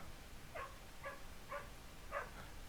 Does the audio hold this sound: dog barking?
yes